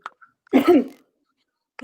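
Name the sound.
coughing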